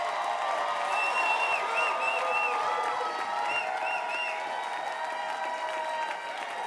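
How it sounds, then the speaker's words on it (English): An awards show audience applauds and cheers for the host, with a few whoops rising over the crowd. The sound is steady and dense throughout, dipping slightly near the end. "give the loudest round of applause for the most beautiful,"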